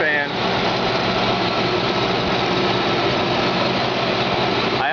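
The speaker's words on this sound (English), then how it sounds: "Installation's over, fans are in. There they are in action." Electric cooling fans run in a vehicle after replacing the engine-driven fan, making a steady, dense whooshing roar with an engine-like hum beneath, constant and close throughout.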